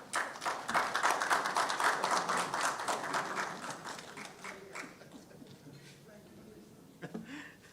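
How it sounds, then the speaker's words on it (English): Audience applause for Minister Dunn at a regulatory authority launch, dense rapid clapping that fades gradually over several seconds, with a few late claps and voices near the end. "Please give him another round of applause"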